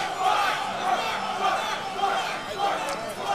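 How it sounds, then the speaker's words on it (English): Tournament crowd at a fighting game grand final chanting a player's name, a loud rhythmic roar of many voices in a large hall, rising and falling in repeated pulses. "Everyone from everywhere is chanting Spark right now."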